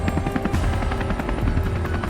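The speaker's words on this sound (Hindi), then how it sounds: "रोबोट हेलीकॉप्टर बनकर उन दोनों शिकारियों को लेकर वहां से चला जाता है।" Cartoon robot transformed into a helicopter flying away, a steady loud whir of rotor chopping that holds at an even level throughout, with no voices.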